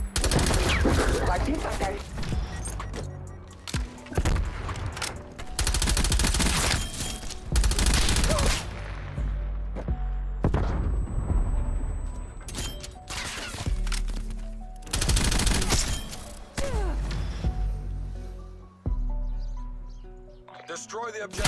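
Loud bursts of light machine gun fire from Call of Duty Cold War Search and Destroy repeat in long volleys with brief gaps, close and dominant, with a voice speaking briefly over them.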